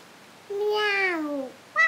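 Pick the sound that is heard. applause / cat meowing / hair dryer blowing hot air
cat meowing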